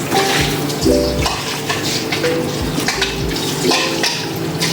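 A spoon scrapes and clinks around a pot of seasoned liquid for chicken rendang while it bubbles and sizzles steadily underneath, close and fairly loud.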